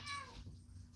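A soft, short cat meow, faint and close, over a low background hum.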